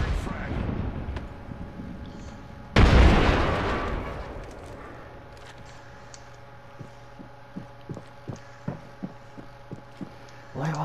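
A frag grenade detonates in a shooter game with a sudden heavy, close boom that rolls off over a couple of seconds, leaving a low droning hum and scattered faint clicks and thumps.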